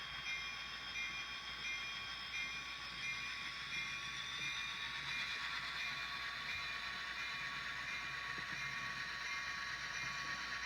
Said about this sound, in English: So a little switching in the yard to make up this train.